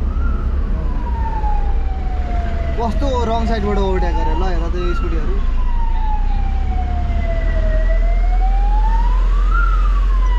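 An ambulance siren wails with slow rising and falling sweeps from behind, moving through heavy Kathmandu valley traffic over a constant engine rumble, while a rider talks loudly close by.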